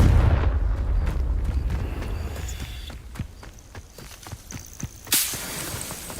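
Confringo spell blasts cast in Hogwarts Legacy while hunting for vases: sharp, cracking impacts in a quick series that fade out, then a single louder burst near the end.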